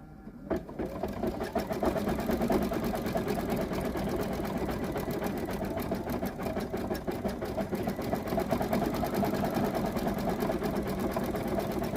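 An embroidery machine stitches a shamrock coaster in the hoop, a rapid, steady mechanical needle chatter running continuously at close range after a brief quiet start.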